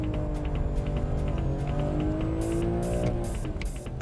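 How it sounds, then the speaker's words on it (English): Sports car in a power slide during a drift test on a track, engine droning steadily while tires squeal in short bursts toward the end, moderately close. "Ah, nice power slide there."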